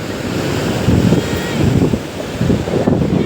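Strong seaside wind at Dwarka buffets the microphone in loud, rumbling gusts, with the wash of waves underneath, continuous for a few seconds.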